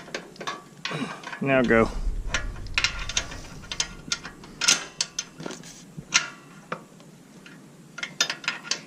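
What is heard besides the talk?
ratchet wrench tightening on engine install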